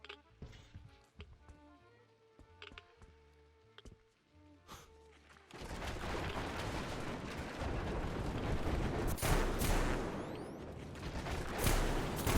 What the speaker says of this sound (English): I'll throw my one bomb.